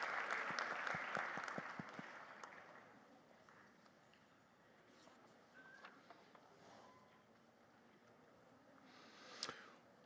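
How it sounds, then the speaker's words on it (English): A school graduation ceremony crowd's applause after a student orchestral performance, moderately distant, strongest at the start and then tapering to scattered claps before a faint renewed patter. "Let's have another round of applause for our student orchestral performers and soloists"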